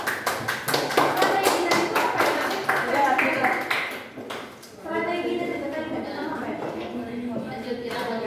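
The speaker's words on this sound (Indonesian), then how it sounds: "Kita tepuk tangan dulu" A class claps in a burst of quick, uneven applause, then fades as voices talk.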